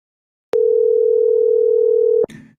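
A single steady telephone tone plays when dialing out on Google Voice, holding clear and loud for nearly two seconds before cutting off into a short, quieter burst of sound.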